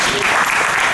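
Audience applause in a theatre foyer, a dense, steady clatter of many hands clapping close by throughout the short moment.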